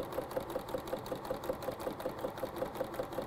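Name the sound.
sewing machine chain-piecing quilt strips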